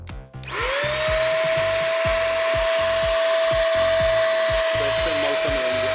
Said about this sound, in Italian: ora richiudiamo il flusso dell'aria per vedere come spruzza